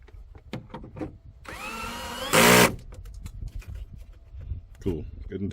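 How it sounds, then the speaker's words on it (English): Power drill driving headlight assembly screws on a 2008 Toyota Land Cruiser 200, one short loud whir in a quiet garage with light handling clatter around it. "Get this one tightened back down."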